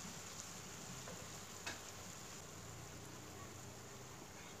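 Eggplant and pork stir-frying in a pan as chili is added, a steady broadband sizzle with a brief clatter near the middle, continuous and fairly close.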